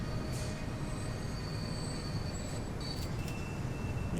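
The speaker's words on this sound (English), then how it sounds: "So there is the new train" A train in the Transport Fever game rumbles steadily with a continuous low roll, with faint high metallic tones and brief squeals over the top.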